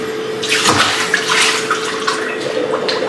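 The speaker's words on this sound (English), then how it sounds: "I'm gonna dump the water and stuff out of it." Water and leftover bits poured out of a kitchen bowl used for thawing chicken, a steady splashing rush into a sink lasting a few seconds, close and fairly loud.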